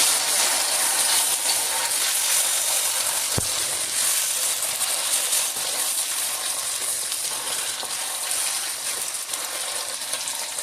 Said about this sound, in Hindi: अब हम इसमें 1 स्पून जो है वो अदरक लहसुन का पेस्ट डालेंगे। इसको अच्छी तरह से प्याज के साथ मिक्स करेंगे।